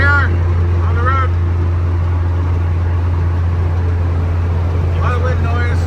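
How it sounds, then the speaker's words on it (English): Steady roaring wind noise fills the cabin of a 1962 Rambler American, missing its weather strip, cruising on the road, over a constant low drone, with a voice briefly cutting in at the start and end. "A lot of wind noise."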